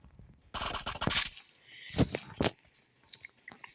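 Video game gunfire, a rapid burst of automatic shots followed by a few sharper single shots, close and punchy, with small clicks in between.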